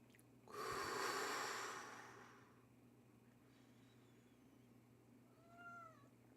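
A house cat lets out one loud, drawn-out meow close by, then the room falls quiet with a faint high chirp near the end.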